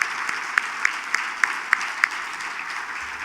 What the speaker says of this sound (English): So please help me, at least by way of applause